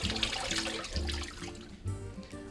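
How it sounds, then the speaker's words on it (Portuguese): Tap water runs into a kitchen sink while a boiled egg is peeled under the stream, a close splashing rush with small handling knocks and shifts in flow. "E eu já vou descascando ele aqui na pia, embaixo da água corrente."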